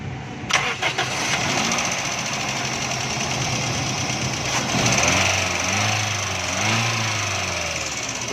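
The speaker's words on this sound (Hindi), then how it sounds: "आप गाड़ी स्टार्ट करेंगे" A car with a spark plug misfire problem cranks and fires up, then settles into a steady, close engine idle with a faint uneven hum running throughout.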